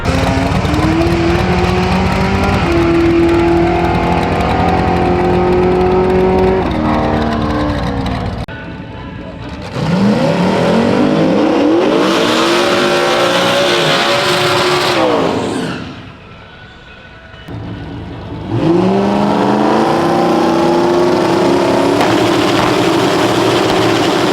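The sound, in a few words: race car hot lapping around the track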